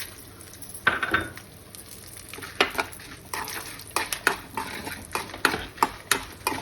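Dried red chilies sizzle in a pan while being stirred for a broad bean stir-fry, with a steady frying hiss and repeated scraping clinks of a spoon against the pan, close and moderately loud.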